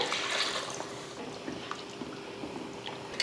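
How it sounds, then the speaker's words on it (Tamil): Dissolved tamarind water, a lemon-sized portion mixed in liquid, poured into a cooking pan for a kuzhambu, giving a soft continuous splashing trickle, faint and close, with no talking. "ஒரு எலுமிச்சை அளவுக்கு புளி எடுத்து கரைச்சி வச்சுருந்தேன் அதை சேர்த்துட்றேன்"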